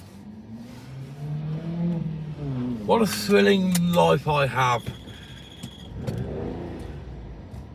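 A loaded car drives along with a steady low engine hum and road rumble throughout, while someone talks over it.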